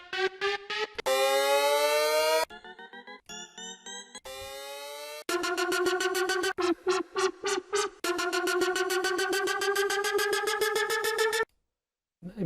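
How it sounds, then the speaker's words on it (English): Synthetic riser effects from a BandLab loop library play one after another as loud electronic tones. Each short segment steps through shifting pitches, with abrupt cuts between them and a brief silence near the end. "I think I want a riser now."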